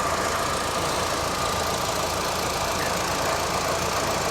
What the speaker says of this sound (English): Little 4-cylinder, turbo. She runs well.